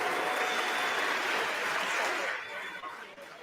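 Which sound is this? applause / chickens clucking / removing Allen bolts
applause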